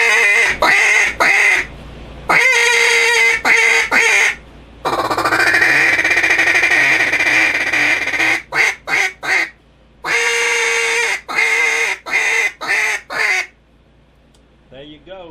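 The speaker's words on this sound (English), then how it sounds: "And that's how you make a duck call." A handmade wooden duck call from a custom call maker's shop is blown in a run of loud, raspy quacks, first in short bursts, then a long sustained series, then choppy clipped quacks, close and alone.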